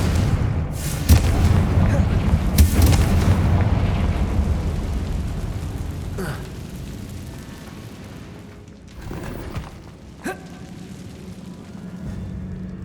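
Bombarda and Confringo blasting spells going off in the Hogwarts Legacy video game: a run of loud booming explosions with bright bursts, heaviest in the first few seconds, then scattered sharper blasts over a rumbling game backdrop.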